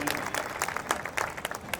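Audience applause at a hospital inauguration ceremony, a brief burst of many hands clapping at a moderate distance, steady and dense through the short moment.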